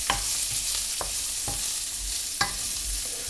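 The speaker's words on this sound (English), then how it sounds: "Heat a pan and without adding any oil, just put the guanciale inside" Guanciale fries in a dry pan, with no oil, under a soft, even sizzle; a utensil scrapes and taps the pan at a regular pace every half second or so.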